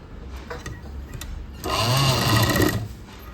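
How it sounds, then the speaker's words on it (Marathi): Sewing machine running a double line of stitches while attaching a fall to a saree, a steady close whir that rises for about a second in the middle of the clip, with no one talking. "ते डबल शिलाई मारून घ्यायची आपण"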